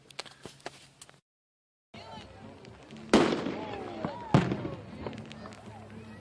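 Fourth of July fireworks boom and crackle outdoors, with two strong bursts standing out among scattered pops and distant rumbles, plus background voices.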